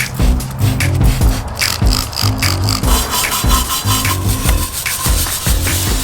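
Steady scrubbing strokes as surface rust is worked off a spare steel wheel from a 2013 Ford Transit Connect, a close, repetitive rasping rub with a regular back-and-forth rhythm and no talking.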